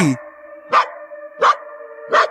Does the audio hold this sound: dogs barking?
yes